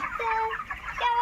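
A small chicken gives a short burst of clucking, close and distinct, with two brief clucks within about a second.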